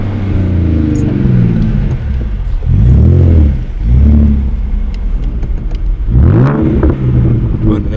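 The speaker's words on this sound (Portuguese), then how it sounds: "Olha o ronco desse carro." A Ford Mustang engine revs up loudly in repeated surges, deep roaring swells rising and falling, with a few voices faintly in the background.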